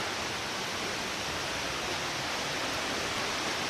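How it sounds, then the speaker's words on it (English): A waterfall roars up close at its base on the Blue Ridge Parkway, a steady, dense wash of falling water that fills the whole clip without pause. "The water's pretty loud right here. We are right at the base of the waterfall."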